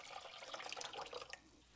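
Water pours steadily from a 4-cup container into a pot beside the stovetop while roasted potatoes are being prepared, a close, continuous splashing stream that tapers off after about a second and a half.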